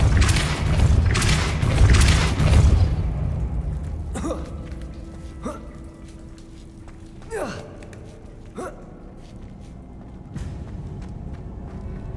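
Depulso force spell cast in the Hogwarts Legacy video game, heard as a few sharp whooshing impacts and thuds spaced over several seconds after a loud rumbling opening, with no talk.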